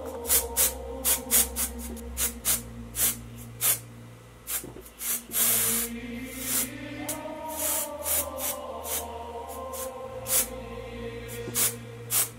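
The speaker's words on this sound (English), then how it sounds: "And now I'm gonna use some gray spray." Repeated short hissing bursts of an aerosol spray can of gray paint, close and fairly loud, spaced in an uneven rhythm over a faint background hum.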